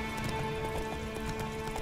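Horse hooves in the video game The Witcher 3, a steady rhythmic clip-clop of a mount on the move, moderately loud and continuous with game music or ambience underneath.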